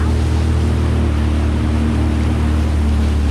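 Jet ski engine roaring steadily on open water, loud and close, a constant droning rumble with water wash and no let-up.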